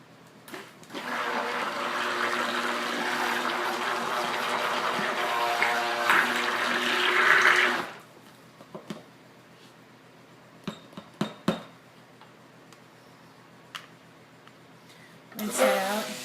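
Water runs steadily from a tap while paint is rinsed out, a broad continuous rush lasting several seconds before it stops, followed by a few sharp knocks and clatters and a short final burst of running water.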